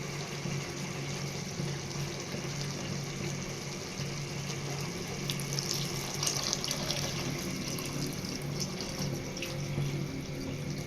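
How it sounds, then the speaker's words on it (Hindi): Water pours steadily from a tap into a cooking pot of peas for pulao, a soft, continuous splashing hiss with no talk. "पहले हम इसके अंदर पानी ऐड करेंगे।"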